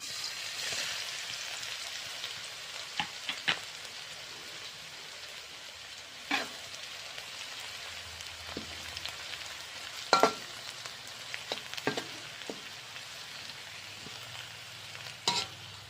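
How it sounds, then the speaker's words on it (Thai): Minced garlic frying in oil in a wok, for stir-fried bok choy with oyster sauce: a soft, steady sizzle with occasional sharp clinks and scrapes of stirring, fairly quiet and with no talk. "จุดไฟตั้งกระทะเทน้ำมันลงไปเจ้าเดี๋ยวจะเอากระเทียมซับมาเจียวกันเนาะ กระเทียมซับลงไปเลยเจ้า"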